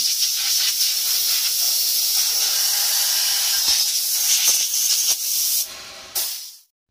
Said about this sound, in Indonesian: lagi dibersihin dulu semprot angin